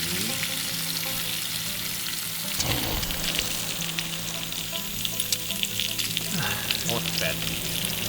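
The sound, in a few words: bacon sizzling while frying at camp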